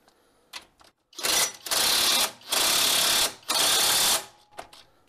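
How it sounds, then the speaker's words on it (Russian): A wrench working a rusted front ball joint loose back and forth on an Infiniti FX35: four loud, sustained grinding, ratcheting bursts separated by short pauses, preceded by a few quick clicks. "Сейчас затянем его и так туда-сюда будем откручивать"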